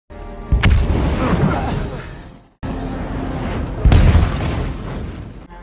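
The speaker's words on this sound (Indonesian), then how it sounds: "Kapal Essex pun meledak dan karam." Two heavy booming explosions of the whaling ship Essex in a film, each a sudden roaring burst that rumbles on and slowly fades, the second cutting in after a brief silence.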